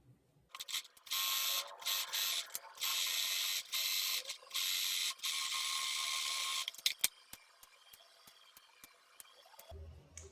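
A sewing machine stitching a fitted tube dress with a front cut-out and buttons, running in steady bursts of rapid mechanical whirring broken by brief pauses, then stopping, followed by a few scattered clicks and handling noises.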